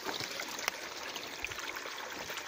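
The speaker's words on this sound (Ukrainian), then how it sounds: "скільки тут води витікає" Spring water flows and trickles out of a steep slope, a steady, soft outdoor babble with small splashes, heard without voices.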